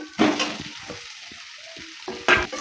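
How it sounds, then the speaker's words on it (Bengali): Boiled taro is stirred with coriander, turmeric, chili powder and salt in a pan for a Bengali taro and rohu curry, with sharp scraping stirs at the start and end over a quieter sizzle between. "ভালো করে মশলা দিয়ে কষিয়ে নেব।"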